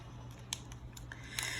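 Metal scissors cutting during a lever demonstration in a physics lesson, giving a few sharp snips close by over a steady low hum, with no talking.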